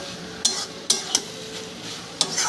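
Poppy seed paste being stirred into pointed gourd in a pan: a few sharp spoon scrapes against the pan at an irregular pace, with a faint sizzle underneath and no voices.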